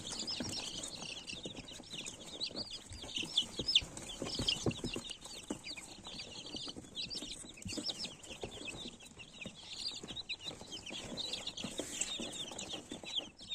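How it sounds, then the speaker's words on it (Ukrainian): Dense chorus of high chirping and peeping from many Muscovy ducklings, continuous and close, with soft rustling and shuffling underneath. "каченятка мускусної качки, важкої лінії, німецька селекція, двох кольорів"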